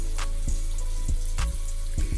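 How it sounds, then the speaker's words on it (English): A bathroom sink tap runs steadily, a close, continuous stream of water with a few soft knocks and splashes, no voices. "Sometimes I'll just go ahead and turn on the sink and just put some water into my hand"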